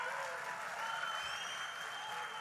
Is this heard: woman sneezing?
no